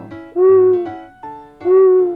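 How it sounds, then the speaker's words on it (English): Owl hooting in a children's alphabet learning toy, two loud, sustained, tonal hoots separated by a shorter, softer call, with nothing else heard. "owl."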